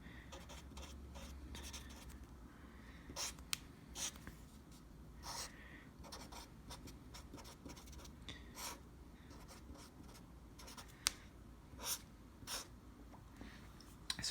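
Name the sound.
writing on paper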